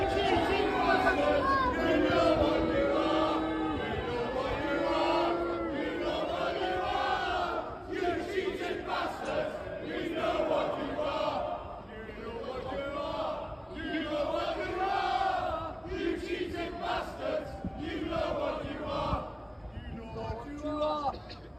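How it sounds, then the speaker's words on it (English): A Manchester United vs Manchester City Premier League crowd chants "We know what you are" in loud, rolling, rhythmic waves as the City players arrive at the stadium, the massed voices continuous and echoing. "we can hear the crowd shouting, "We know what you are. We know what you are.""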